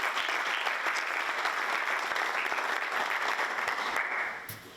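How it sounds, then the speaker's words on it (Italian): Audience at an Italian auto body repair conference applauds a welcomed speaker, a dense, even clapping that stays loud for several seconds before fading out near the end, with no talk. "Benvenuto, un applauso."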